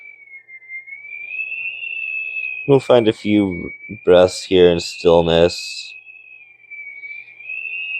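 Outdoor winter wind whistles as a thin, steady high tone throughout, continuing under a calm voice that speaks briefly in the middle.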